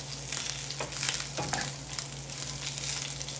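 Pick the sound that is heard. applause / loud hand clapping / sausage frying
sausage frying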